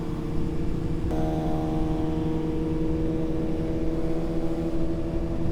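BMW S1000RR sport motorcycle engine revving through a sunset wheelie in Florida: a steady, loud mid-pitched engine drone that climbs in pitch partway through and holds a strong harmonic whine, no voices.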